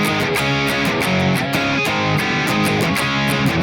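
Distorted electric guitar chugs through a power-chord riff, dense and loud with steady rhythmic strumming throughout, no talking.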